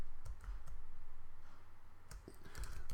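Keystrokes on a computer keyboard, a quick burst of clicks early on followed by a pause and another cluster of taps, close and clear with no talking.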